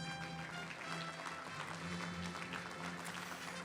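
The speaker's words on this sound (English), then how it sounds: "How about a big round of applause for them?" Audience clapping at a fire service awards ceremony honoring unsung heroes, a dense, continuous patter of applause filling the hall, fairly faint overall.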